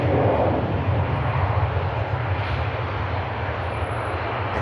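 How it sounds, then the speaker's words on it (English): A propeller airliner rolls past on the runway at Manchester Airport, its steady engine drone and low rumble holding close and fairly loud throughout, with no talk. "That's the first time in a long time I've seen a prop roll right past."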